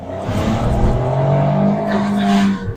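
A Fiat 500 Sport engine drones steadily under load uphill, labouring with a constant low hum and some tire noise, loud and close, before cutting off at the end.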